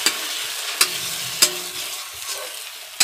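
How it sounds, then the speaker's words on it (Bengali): Eggs seasoned with black pepper and salt fry in a pan with a steady, close sizzle, broken by four sharp scrapes of a spatula against the metal at irregular moments; no one speaks. "ডিম দুটোকে গোলমরিচ আর কি বলে লবণ দিয়ে এই যে ভেজে নিচ্ছি, ভালো সুন্দর করে ভাজবো"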